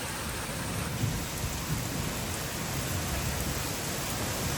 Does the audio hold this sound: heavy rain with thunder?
yes